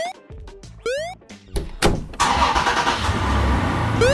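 Cartoon truck engine starting in a Lego toy animation: a door thunk and short rising tones, then a loud steady engine rumble settling in for the rest of the clip.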